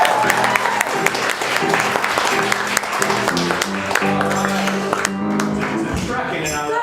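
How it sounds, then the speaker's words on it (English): An audience at a live streamed variety show claps and cheers steadily throughout, with music and a voice running underneath. "Give her a round of applause."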